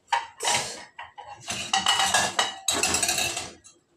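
Plates and dishes clink and clatter in several bursts, ceramic knocks and rattles of handling, close by with short pauses between.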